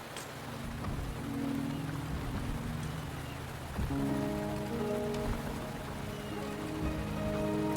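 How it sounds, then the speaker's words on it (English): Steady rain falls in the Wuthering Waves video game, a dense, even hiss of drops on surfaces with soft game music tones underneath throughout. "The rain is subsiding, and the sky will soon clear."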